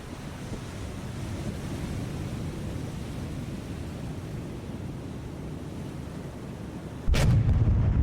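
A battleship's main guns fire in War on the Sea, one sudden loud boom near the end that follows a long stretch of steady wind and sea rumble.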